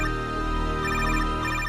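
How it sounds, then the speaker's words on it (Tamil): A mobile phone rings with an incoming call, a steady repeating electronic ringtone pattern playing continuously and fairly loud with no talk over it. "மறுபடியும் கால் பண்றாருக்கா"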